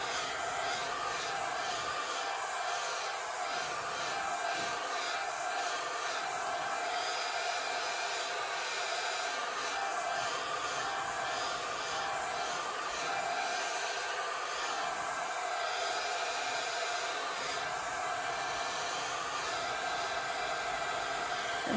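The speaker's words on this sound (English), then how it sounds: "I'm just going to turn that off so you don't have to sit here and listen to my hair dryer" A hair dryer blows steadily close by, drying a thin layer of watercolor paint on paper. Its continuous broadband whoosh stays even throughout, with slight variations as the airflow moves back and forth across the painting.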